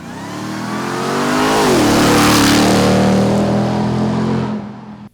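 A new Ram TRX 4x4 pickup with an extra 100 horsepower on 35-inch tires accelerates hard, its engine note climbing and then holding a loud steady roar close by before easing off at the end.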